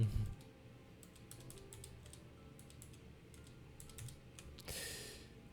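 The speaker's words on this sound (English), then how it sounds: "The mouse clicking is just like my noise gate." Computer mouse clicks during a gaming stream of Clair Obscur: Expedition 33, a quick scatter of light, close ticks spread through the clip over a low background hum, with a brief burst of broadband noise near the end.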